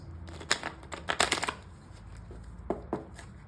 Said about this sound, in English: I'm going to shuffle this quite a bit.